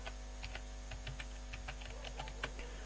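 Soft keystrokes tap on a computer keyboard in an irregular run of light clicks over a steady electrical hum, close and faint.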